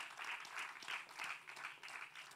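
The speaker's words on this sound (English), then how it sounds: "A round of applause for her." An audience at a head girl conference panel session applauds for an honoured managing director, steady soft clapping heard from a distance and sustained throughout.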